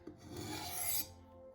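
A MagnaCut steel knife blade rubbed across a sharpening stone with light pressure, a single short raspy stroke heard up close and fairly quiet.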